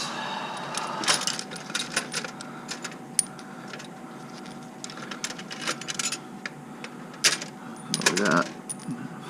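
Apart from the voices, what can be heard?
metal bolts being gathered and handled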